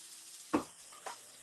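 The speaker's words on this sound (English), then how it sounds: "now we got the sizzle of the pan" Meat sizzles quietly in a frying pan, with two short louder bursts of crackling over a low steady hiss.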